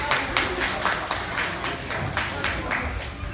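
An audience claps in welcome for a performer at a traditional music show, a steady round of moderate applause with rhythmic hand claps throughout.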